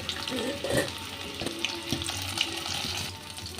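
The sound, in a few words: potatoes frying in oil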